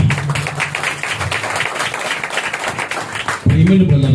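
A church congregation at Sunday worship claps together in a quick, steady rhythm of many hands, loud and close, with a voice speaking over it.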